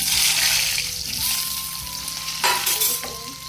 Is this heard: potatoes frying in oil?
yes